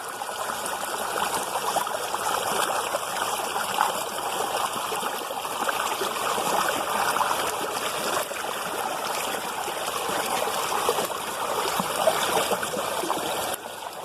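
A river flowing beside a farm field in a mountain village, a steady rushing babble of water close by, continuous and fairly loud with no voices.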